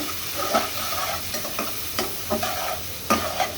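Koi fish frying in a pan, close and continuous sizzle of oil punctuated by several sharp scraping stirs of a spatula against the pan, no voices.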